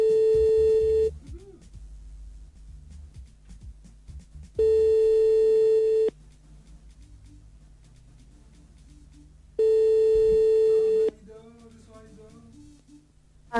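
Telephone ring tones during a prank call on a radio show, with three long, loud, steady electronic tones separated by quiet gaps and low voices murmuring between them.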